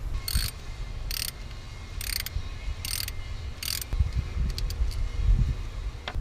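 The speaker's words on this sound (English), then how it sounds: "First thing I'm going to do is use this 10mm socket to unbolt this bolt out and pull the coil out." Ratchet with a 10mm socket unbolting the ignition coil bolt on a 4th gen Toyota 4Runner, five quick bursts of clicking in a row, close and clear, then quieter handling noises.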